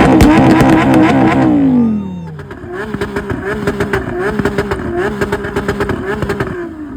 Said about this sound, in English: we really did not want to miss hearing the Aventador Ultimate